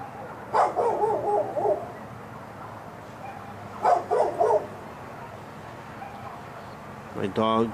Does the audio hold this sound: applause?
no